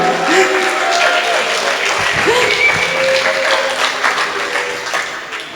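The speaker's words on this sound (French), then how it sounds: "Un tonnerre d'applaudissements quand même pour la technique" A crowd claps in sustained, dense applause, with voices faintly mixed in.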